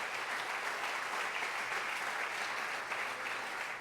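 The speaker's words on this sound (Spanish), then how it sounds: "Dale el aplauso al Señor si lo entendiste." Church congregation applauding steadily, a dense, even wash of clapping that holds at a constant level throughout with no speech over it.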